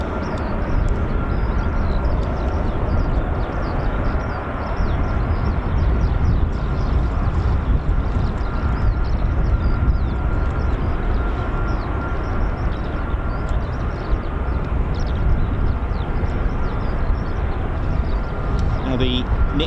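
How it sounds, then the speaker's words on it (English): KC-135 tankers of an air refueling wing taxi at an RAF base, producing a steady, broad jet roar that rumbles on without letup. "KC-135s taxiing now."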